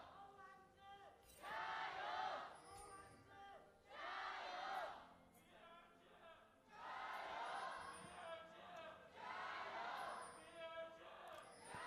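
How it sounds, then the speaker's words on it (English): Esports arena crowd at an LPL Summer 2019 League of Legends match in Chengdu, chanting in repeated bursts of two or three seconds with brief lulls between, steady and moderately loud but subdued in energy. "The most deflated chant I have ever heard."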